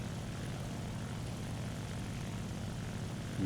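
Propeller drone of an HS-129 ground-attack plane in a flight combat game, a steady loud engine roar holding for several seconds with no talk over it.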